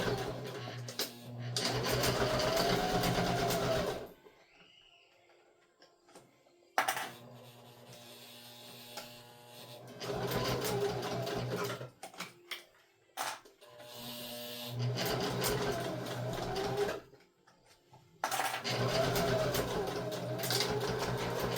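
A sewing machine stitches a seam on a bag in several bursts of steady mechanical whirring, stopping between runs, with quiet pauses and soft handling noises in between.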